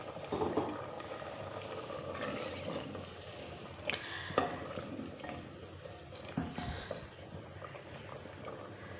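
Black chickpeas simmering in a pot of reduced water, a low, continuous bubbling with soft pops and occasional small clinks, moderately close and without talking.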